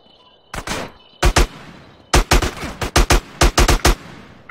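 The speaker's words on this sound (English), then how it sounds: "Who the fuck's shooting at me?" Gunfire in Grand Theft Auto San Andreas, loud sharp shots in irregular bursts and clusters, several rapid volleys separated by brief pauses, with no talk over it.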